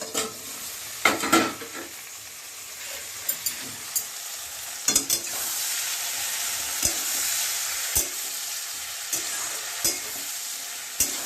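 Curry sizzles and fries steadily in a pan while a spoon stirs it, with sharp clinks of metal against the pan scattered throughout, close and alone with no talk.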